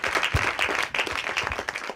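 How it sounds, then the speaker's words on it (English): Audience at a hackathon on stopping human trafficking claps for a guest invited on stage, lively close applause with a few sharp individual claps standing out, no talking. "We'll give some applause."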